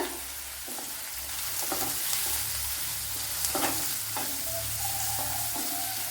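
Curry leaves crackling and sizzling in hot oil for a bitter gourd pickle, a steady close fry with sharp pops and occasional stirring scrapes, no voices.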